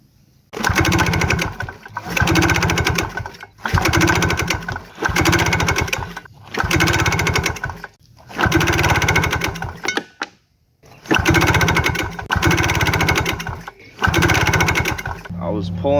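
A Ski-Doo 335 snowmobile engine running just after a carburetor rebuild and pod filter fitting, loud close two-stroke buzzing in repeated bursts of a second or so, broken by short silent gaps.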